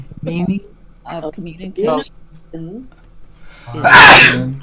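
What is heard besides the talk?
person sneezing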